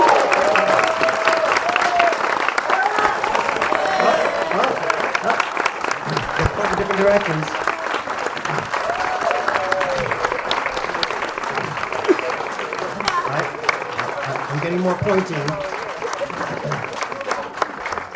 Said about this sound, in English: Keep that clapping coming because apparently he's coming in right now.